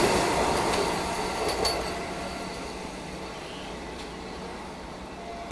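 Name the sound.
Vande Bharat Express train passing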